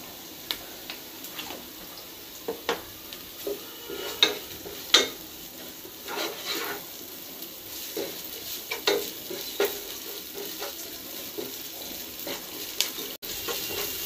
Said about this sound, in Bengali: পেঁয়াজটা আমার মোটামুটি ভাজা হয়ে গেছে।